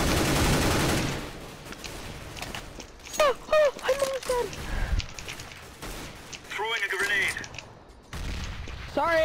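Gunfire in Counter-Strike: Global Offensive during a competitive match on Mirage, a loud burst at the start followed by scattered shots and metallic clicks, with players talking over the action.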